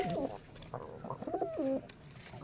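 Pigeons, a Rajshahi Giribaz pair, coo in a few close, warbling phrases with short pauses between, sounding nearby and fairly loud with no talk.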